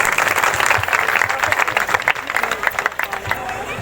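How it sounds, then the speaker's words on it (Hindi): A congregation claps together at a live Easter prayer meeting, a dense, steady wash of applause and crowd noise running throughout. "ताली बजाएंगे सब लोग परमेश्वर के लिए।"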